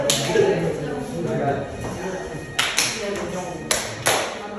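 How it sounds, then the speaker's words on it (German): A group of people at a school support centre slapping hands in high fives: a few sharp, bright smacks scattered irregularly, some in quick pairs, over lively chatter and voices. "Jetzt klatschen wir uns alle mal gegenseitig ab"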